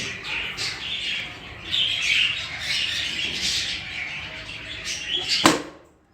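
Pet birds and newly hatched chicks in a nest give continuous high squawking and chirping, with one sharp knock or clatter near the end, no talking.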